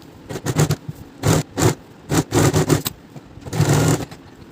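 A sewing machine stitches pleats onto a semi-patiala salwar in short, close, loud bursts of whirring separated by brief pauses.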